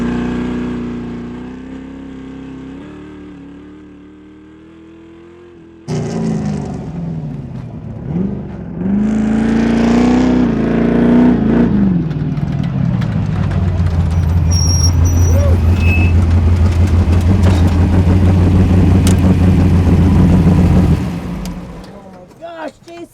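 An 830 HP Bronco off-road racer built for King of the Hammers roars at speed, its engine note climbing and surging loudly inside the cab, with occupants talking over the noise.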